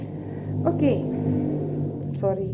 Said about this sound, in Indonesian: Sorry, suara motornya masuk ya.